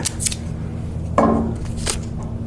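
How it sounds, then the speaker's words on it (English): Scissors snip a piece of tape in a laminating workshop with a single sharp, close cut and a short ringing metallic tail, surrounded by light handling noises and a low steady hum. "I'm going to cut a piece of tape for this side"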